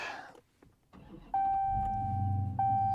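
A 2023 Dodge Challenger Swinger cranks and fires up, with a chime ringing over the ignition and the engine settling into a steady low idle close by after a few quiet clicks.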